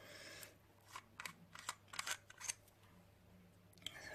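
The bottom of an iJoy Maxo V12 vape tank is unscrewed, producing faint, close, irregular clicks and scratchy metal-thread rasps in short bursts, with no talking.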